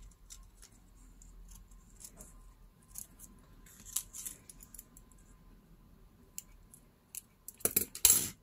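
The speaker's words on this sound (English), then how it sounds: "with my scissors I'm gonna manage these. I'm just gonna cut the book page around" Scissors snip around an old book page during a paper-craft job for journal charms, giving scattered small crisp cuts and clicks that build to a sharper cluster of snips near the end, close and quiet, with no talking.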